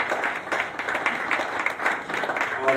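A live audience applauds steadily for a woman walking onto a stage, dense sustained clapping and crowd noise filling the whole stretch without a break.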